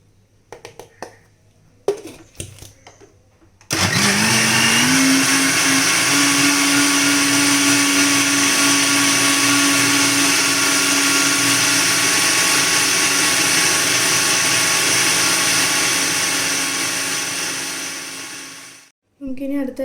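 Electric mixer whirring steadily through chocolate cake batter with a cup of boiled, cooled milk added, a loud continuous motor drone lasting about fifteen seconds after brief handling clatter, then cutting off.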